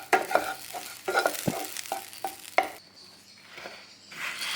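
Poha and coconut are stirred and sautéed in a pan on a gas stove, with a faint sizzle under repeated sharp scraping and clinking strokes of a spoon against the pan, close and rhythmic, followed by a short quieter stretch.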